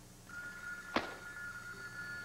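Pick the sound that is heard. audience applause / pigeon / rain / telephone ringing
telephone ringing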